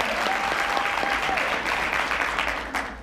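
Sustained audience applause fills a marketing business presentation, a dense, steady wash of many hands clapping at full volume that tapers only slightly near the end.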